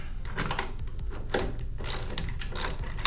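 Ratchet socket wrench clicks in quick bursts while turning a long 5/8 inch bolt on a boat trailer tie-down mount, with close mechanical ratcheting and no voices.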